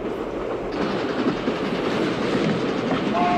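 A train in the film Octopussy (1983) rumbles and clatters steadily throughout, loud and close, with a continuous heavy roar of wheels on track.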